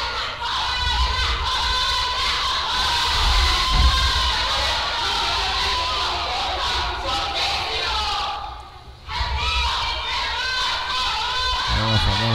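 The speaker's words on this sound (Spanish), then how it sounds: "Y el grito de técnicos, técnicos." A dense crowd at a lucha libre wrestling show in a gymnasium chants and cheers continuously, loud and rhythmic, with a brief dip before the roar resumes.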